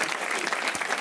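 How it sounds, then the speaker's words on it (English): A studio audience at a television comedy panel show claps in a dense, steady burst of applause that is loud and close. "You shouldn't have clapped"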